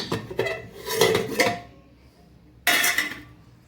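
A lid is lifted off a pressure cooker while making khandvi, and metal pots and dishes clink and clatter in two close bursts separated by a short quiet gap.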